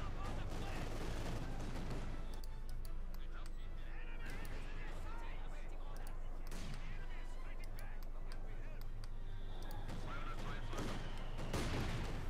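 Mortar fire in the World War II strategy game Company of Heroes 2 produces a dense stream of booming impacts and gunfire crackle, with battle noise running almost constantly beneath a talking voice.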